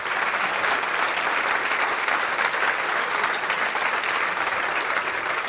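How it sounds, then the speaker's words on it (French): Dense, steady applause from a large conference audience at Android Makers 2017, filling the whole stretch at an even level with no talk over it. "je voudrais bien que vous applaudissiez tous les gens qui ont parlé pendant cette conf"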